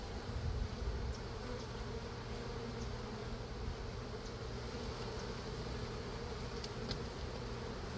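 Honey bees swarm in a steady, dense buzz around an opened hive during a colony inspection, a continuous close drone that holds without a break, with faint clicks from handling the frames.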